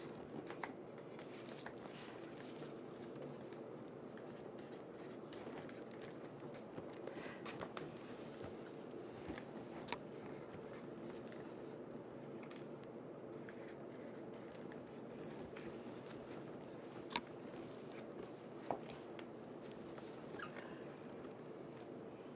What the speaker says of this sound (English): She's gonna write something out for you guys